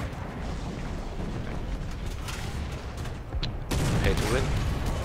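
War Thunder tank combat with shell explosions and gunfire, a steady rumbling barrage broken by a louder burst toward the end, with faint talk underneath.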